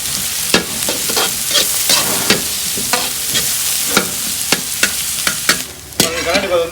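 Onions sizzling and frying in a pan with repeated scraping stirs, a steady crackle broken by sharp utensil strokes, close and fairly loud.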